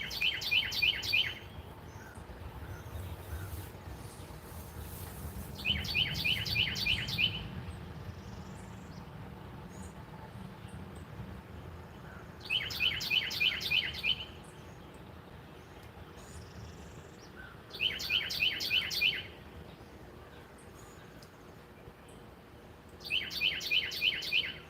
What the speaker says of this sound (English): I think it's a wren of some kind.